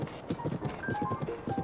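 Quick, steady clip-clopping of horse hooves trotting at a brisk rhythm in The Legend of Zelda: Tears of the Kingdom, with faint background music.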